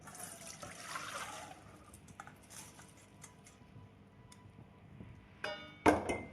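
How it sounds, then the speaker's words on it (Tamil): Water drains as soaked pearl millet is strained with a ladle in a kitchen, with soft trickling and splashing that fades, then a few louder clinks and splashes near the end. "நாம் கண்கரண்டியில் வடித்து எடுத்து விடலாம்."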